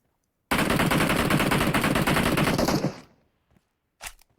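A long automatic burst of gunfire from a hilltop in PUBG Mobile rattles loud and close for about two and a half seconds, then cuts off, followed by one short final burst.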